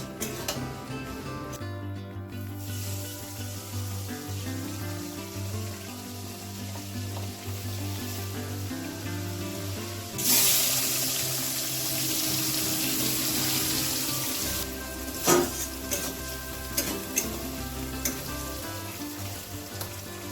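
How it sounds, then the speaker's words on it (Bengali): Steady sizzling of banana-flower curry frying in a pan, with soft scraping and stirring noises throughout and a few louder clatters near the end. "এবারে একটু ভালো করে নাড়িয়ে নেব"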